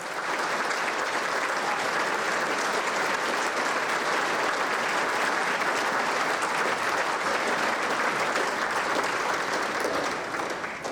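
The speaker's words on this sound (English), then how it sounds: "Please join me in a big round of applause" A dinner crowd applauds a guest being welcomed to the stage at a 2025 banquet featuring General Michael E. Kurilla: dense, even, sustained clapping from a large audience that holds steady for about ten seconds before easing slightly.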